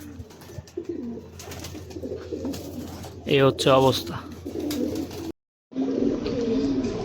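Female pigeons coo in low, repeated throaty bursts while being given bathing water, with a brief sharper call in the middle, while a person speaks briefly nearby.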